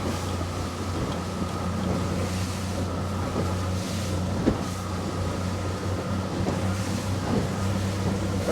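Propeller-driven boat running at around 13 to 15 knots, a steady loud engine drone with wind buffeting and rough hammering from the hull bouncing over water, continuous throughout with no talk.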